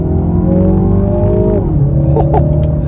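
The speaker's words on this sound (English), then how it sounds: "We'll start one off in second gear too, on the gas." 2024 Mini Clubman S All4 engine pulling hard from second gear, a loud steady rising drone that dips briefly at a shift, then continues strongly close up inside the cabin.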